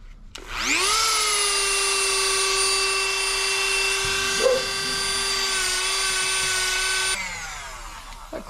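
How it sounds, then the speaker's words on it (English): A Dremel rotary tool whirs up to a steady high-pitched whine, runs continuously for several seconds, then spins down, used in a garage while working on a 1979 Chevrolet El Camino SS small block. "Let me grab the Dremel."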